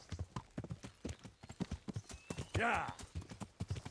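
Horse hooves clip-clop in a steady rhythm while riding in Kingdom Come: Deliverance, with a whinny partway through. Someone speaks briefly over the hoofbeats.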